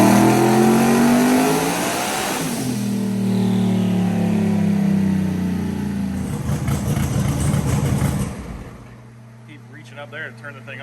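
A race car engine revs hard at close range, a loud sustained roar that climbs in pitch, then drops back toward a rough idle near the end, with no clear talking over it.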